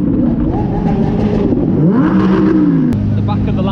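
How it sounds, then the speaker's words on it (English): A Lamborghini's exhaust revs loudly and steadily beside an Audi R8, its hot blast burning the R8's front grille on a London street; the engine note rises and falls continuously with people talking over it. "So you're about to watch a Lamborghini burn the front grille of an Audi R8."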